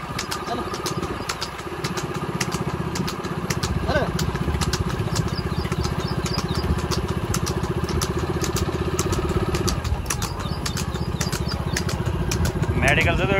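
A motorcycle idles steadily close by, its engine running throughout with a low, continuous rumble, while people talk over it.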